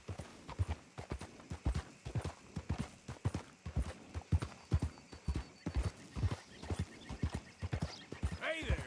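Horse hooves clip-clop in a steady walking rhythm through a Red Dead Redemption 2 game scene, close and distinct, with a whinny near the end and talk heard faintly in the mix.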